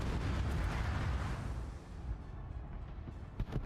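A torpedo strikes a ship in World of Warships. A heavy, rumbling explosion swells and then slowly decays, with a couple of sharp pops near the end and no voices.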